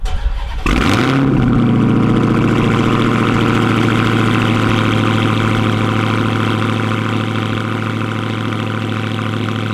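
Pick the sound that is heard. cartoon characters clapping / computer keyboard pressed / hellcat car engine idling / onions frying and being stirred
hellcat car engine idling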